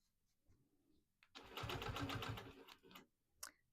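A longarm quilting machine stitches through layers of T-shirt quilt fabric in one short, fast burst of rapid needle chatter, loud and close, with quiet handling sounds before and after.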